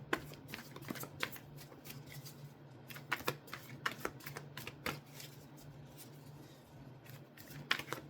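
Tarot cards are shuffled close by in quiet, irregular bursts of crisp riffling and slapping, with short pauses between the flurries and no talk.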